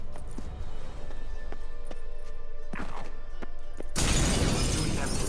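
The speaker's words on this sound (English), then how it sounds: "Gotta be some mirror here you won't shatter." Glass mirror shattering in The Witcher 3 video game, a sudden loud crash of breaking glass that bursts in and fills the sound after scattered quieter game thumps.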